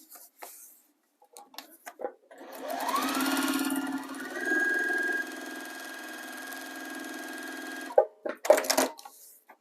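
A sewing machine stitches a zipper pouch made by foundation paper piecing. The motor whirs up and runs for about five seconds, shifting pitch midway, and is framed by quiet clicks and handling sounds before and after.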